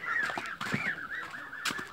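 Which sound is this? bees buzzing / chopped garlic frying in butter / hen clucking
hen clucking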